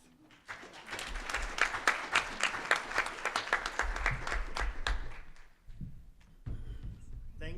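Audience applause at a conference's closing remarks, a dense patter of clapping that swells, briefly dips near the end and resumes, fairly close and steady.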